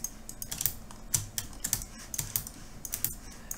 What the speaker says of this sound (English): I'm pressing down the space bar and clicking and dragging.